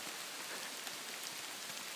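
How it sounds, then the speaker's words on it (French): Steady rain falling outdoors during a wet bushcraft outing in the woods, a dense, even hiss of drops with no talking. "La pluie nous aura pas lâché"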